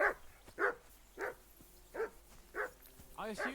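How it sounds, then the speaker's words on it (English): A dog in the video game Kingdom Come: Deliverance 2 barks about six times at an even, moderately spaced rhythm, fairly faint and somewhat distant, over quiet background ambience. "you can hear that damn dog of yours barking"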